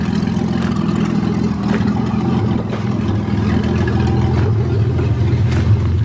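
A 1982 Toyota Cressida drives along with a steady, loud, continuous engine drone and road rumble from inside the car, with no talking.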